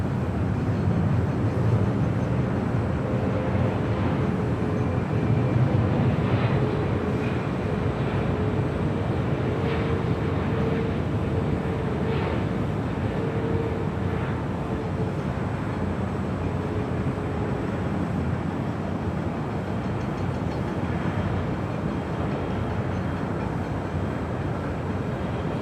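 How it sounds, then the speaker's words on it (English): Philippine Airlines Boeing 777-300ER jet airliner at Los Angeles International Airport, a continuous low engine roar that stays loud and steady throughout, with no talk. "All right, back to the north side as we do have that Philippine 777-300ER."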